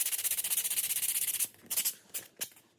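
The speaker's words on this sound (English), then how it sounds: "I'm just going to sand it where I need it to be" Styrofoam stair riser being sanded by hand, quick rhythmic back-and-forth rubbing strokes, bright and close, then a few slower separate scrapes.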